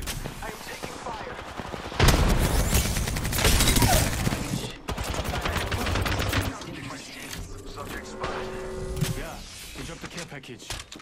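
Rapid video game gunfire in a shooter arena match, with bursts of automatic shots and heavy blasts packed close together, loud and near, while a voice calls out over the fight.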